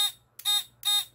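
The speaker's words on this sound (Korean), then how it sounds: "이렇게 해서 부저가 울리기 한번 해볼게요" An electronic buzzer switched through a relay gives three loud, shrill harmonic beeps in a steady on-off rhythm, each pulse lasting about a third of a second.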